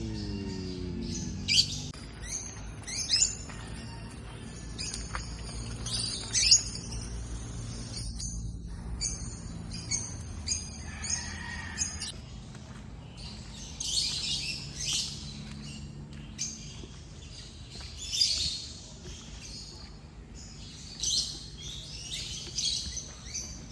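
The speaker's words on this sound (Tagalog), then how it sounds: "Puro huni lang ng ibon," Birds and insects in a forest at a nature camp in Tanay, Rizal: repeated squawks, bright chirps and tweets scattered over a steady background of buzzing insects, some near and some farther off, with no talking.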